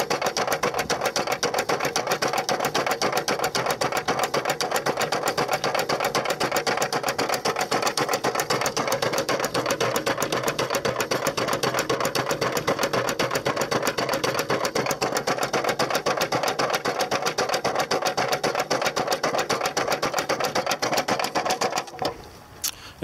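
A dry, waterless jig adjusted for smooth running operates empty with a steady, rapid mechanical clatter, a dense repetitive ticking and rattling that holds constant and loud for the whole stretch before stopping abruptly near the end, with no talk.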